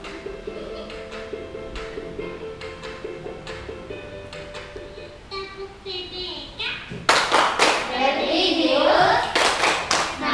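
Primary school children stand and perform a class clapping chant, sharp rhythmic hand claps in patterned bursts with chanting voices, growing louder and more energetic toward the end, with a teacher's voice heard.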